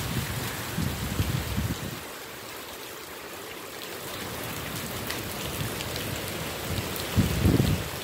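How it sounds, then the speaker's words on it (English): Heavy rain from Hurricane Michael pours steadily on surfaces with running, trickling water, a constant hiss with occasional louder splashing bursts nearby. "When the hurricane intensifies."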